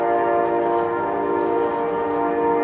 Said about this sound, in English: And trains are rolling.